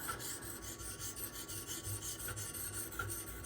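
Steady rhythmic rasping strokes of a Benchmade 2551 Mini Reflex knife blade drawn across Naniwa whetstones, close and continuous with repeated back-and-forth scrapes and no talking.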